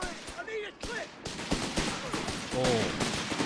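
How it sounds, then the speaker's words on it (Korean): Sharp bursts of video-game gunfire crack in quick succession, loud and close, while a voice talks over the shots. "확실히 총소리가 좀 달라진 느낌"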